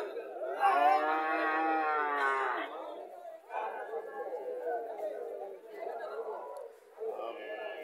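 A Haryana dairy cow kept with her bull calf at a village market lets out one long, loud moo, followed by shorter lowing calls as people chatter close by.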